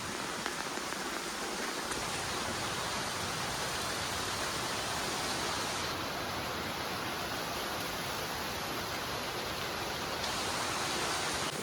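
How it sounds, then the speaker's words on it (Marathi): Heavy monsoon rain pours steadily in the Konkan region, a dense continuous hiss that never lets up, with no voices. "पाऊस खूप आहे कोकणात म्हणजे थांबायला थोडा पण चान्स नाही थोडा पण पाऊस थांबत नाही आहे"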